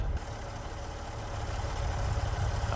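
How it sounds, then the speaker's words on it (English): A modded car engine in American Truck Simulator rumbles with a low, steady idle and a faint rising drone, close and continuous with no talk over it. "Yeah, some of these cars have their own specific engine mod sounds"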